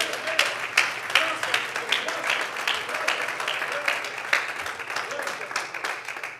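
A church congregation claps together in a steady, dense wash of applause that continues for several seconds inside a worship hall, with a low hum underneath.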